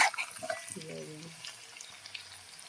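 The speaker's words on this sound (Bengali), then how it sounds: "তেলে আগে থেকে লবণ আর হলুদ দিয়ে দিয়েছি, লাল লাল করে ভাজা হয়ে আসবে।" Potatoes fry in oil seasoned with salt and turmeric, giving a soft, close sizzle that fades over a few seconds, with a brief tonal sound near the start.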